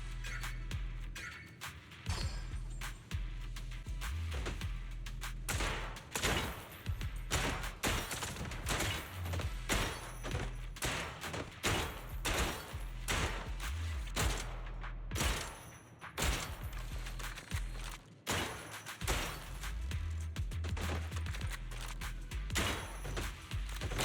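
Rapid, near-continuous gunfire shooting exploding targets in Zenless Zone Zero, sharp repeated shots with occasional heavier thumps of bursting targets throughout.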